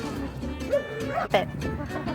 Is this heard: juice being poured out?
no